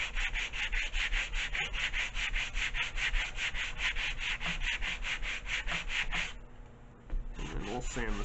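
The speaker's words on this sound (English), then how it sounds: "I'm going to sand that down." Steady back-and-forth rasping as a wooden Sky Shuttle chuck glider part is sanded down by hand, a fast rhythmic scratching that pauses briefly before resuming close up.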